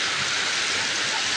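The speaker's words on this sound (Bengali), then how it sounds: "সুন্দর বৃষ্টি, রিমঝিম বৃষ্টি নামতেছে" Gentle rain falls steadily as a dense, even hiss of drops, continuous and fairly loud with no voices.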